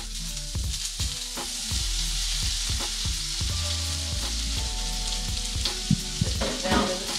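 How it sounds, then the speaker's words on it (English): Vegetables, including asparagus, hiss and crackle in hot grease heated for shrimp, with a loud steady sizzle and repeated stirring scrapes and knocks close by, and no one talking. "So now my grease is hot for my shrimp."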